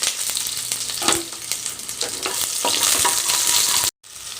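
Shallots, dried red chilies and curry leaves sizzle and crackle in hot oil for a Tamil drumstick-leaf rasam tempering, close and continuous with stirring clatter, cutting off abruptly near the end.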